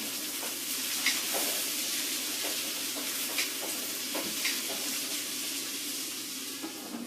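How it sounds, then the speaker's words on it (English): Chopped garlic and bok choy stems fry in hot coconut oil in a pan, giving a steady, close hiss of sizzling with faint crackles and occasional stirring scrapes, continuous and without speech. "So I'm going to add that garlic into that hot oil. I actually have coconut oil in there right now. I'm going to add these stems too."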